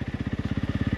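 A Honda CRF 300 Rally single-cylinder motorcycle chugs at about 10 km/h in second gear on light throttle, giving off a fast, even thumping pulse close by.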